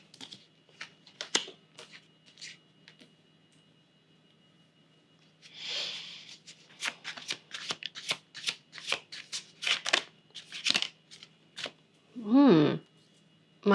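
Rider-Waite tarot cards being shuffled by hand, with scattered light riffles and taps building into several quick, close bursts of card shuffling, heard alone without speech.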